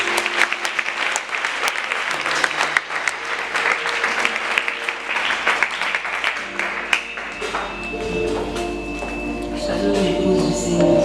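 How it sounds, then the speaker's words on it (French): A church congregation at a Sunday school closing ceremony applauds as a girl comes forward to speak. Sustained, loud clapping fills most of the stretch, then thins toward the end, with some murmured voices and a low hum underneath. "La sœur Sandra, tu peux venir sous vos acclamations"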